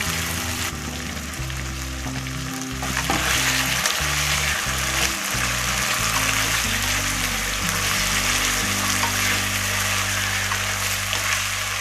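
Marinated chicken fries in a pan for chicken pulao, giving a steady, moderately loud sizzle and bubbling that runs throughout with low background hum.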